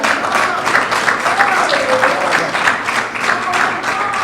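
Audience applause fills the room with a steady, moderately loud clatter of many hands, while a faint tonal voice or call drifts underneath.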